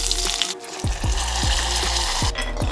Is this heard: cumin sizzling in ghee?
yes